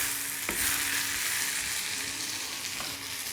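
Kohila leaves stirred through hot oil in a pan, a bright continuous sizzle with two sharp spoon scrapes against the metal, close and alone.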